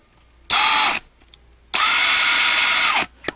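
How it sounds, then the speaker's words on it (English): A power drill set on high speed drills out a rivet on a 1/64-scale die-cast car, whining loudly in two bursts, a short one then a longer steady run, close up with no talking. "set the drill on a high speed as opposed to a low speed"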